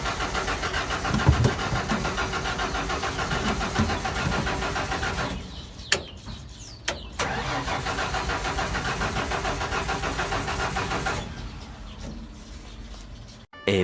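A Ford F250 dually truck cranks and fires up, the starter grinding before the engine catches, cuts out, then restarts with a loud close rumble, with no voices.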